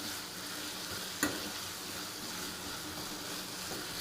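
Potato curry (batata rassa bhaji) sizzles steadily in a pan over a medium gas flame, a continuous close frying hiss with one brief clink near the start.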